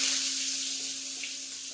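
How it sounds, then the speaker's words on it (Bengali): Potatoes dropped into hot cooking oil in a home kitchen give a steady, close hiss of sizzling, with a faint tonal hum beneath that fades slightly over the short stretch. "তেল ছিটবে, লাগবে। আলু দিয়ে দাও।"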